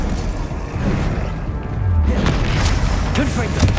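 Incendio fire spell from Hogwarts Legacy, a roaring whoosh that swells midway into a louder, crashing burst with thuds, close and loud amid game effects, a voice calling briefly within.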